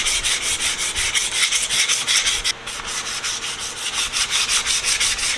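Sandpaper of 240 grit scuffing a wooden tool crate, a steady run of rhythmic back-and-forth rasping strokes up close, with one brief pause midway and no voices.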